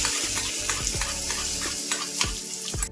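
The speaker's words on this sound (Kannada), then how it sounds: "ಇವಾಗ ಒಗ್ಗರಣೆನ ಚಟ್ನಿಗೆ ಹಾಕೊತಾ ಇದ್ದೀನಿ." Hot tempering poured into chutney crackles and sizzles close up, with scraping stirring strokes repeating through the stretch and no voices.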